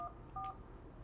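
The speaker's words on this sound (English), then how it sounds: "I now dial an extension I would like to transfer the call to" Two short pairs of DTMF keypad tones on a teacher's office desk phone, dialing an extension to transfer a call, each beep brief and clean over a faint background hiss.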